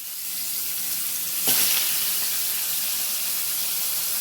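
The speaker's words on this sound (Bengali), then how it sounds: "এবার এই ইলিশ মাছের মাথাটা এর মধ্যে ভেজে নেব।" Hilsa fish head dropped into hot mustard oil, a sudden loud burst of hissing sizzle that settles into steady frying crackle, close and continuous.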